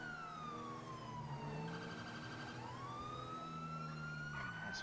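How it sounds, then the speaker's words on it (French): Police car sirens wailing in the GTA V video game during a night patrol, two sirens sweeping up and down loudly and continuously over a steady engine hum. "On va quand même mettre les deux sirènes"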